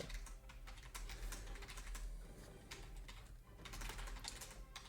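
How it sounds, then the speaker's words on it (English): A computer keyboard is typed on in steady, rapid clatter with brief lulls, close and continuous for several seconds over low background hum. "I keep typing it for you"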